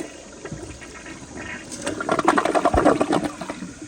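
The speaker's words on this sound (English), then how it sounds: "But here is another flush." A 2016 Kohler Highline Class 5 toilet flushes. Water rushes and gurgles, building to a loud, churning surge in the bowl about halfway through.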